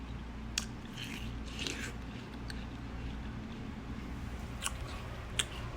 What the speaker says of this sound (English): eat watermelon